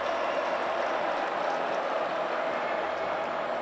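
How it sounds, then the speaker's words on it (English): A Notre Dame football stadium crowd in a 2020 game against South Florida swells into a broad, steady roar of cheering and noise, continuous and fairly loud throughout with no distinct claps standing out. "You hear the crowd rise up a little bit here"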